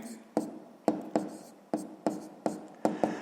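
A pen writes out a sixth-grade maths solution on paper in about eight quick, crisp strokes with short pauses between them, close and fairly quiet, with no talking.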